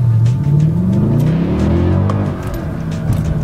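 A Mercedes-Benz E63 AMG engine revs in first gear, a loud, deep, close rumble whose pitch climbs and falls in smooth sweeps, then dips briefly before picking up again.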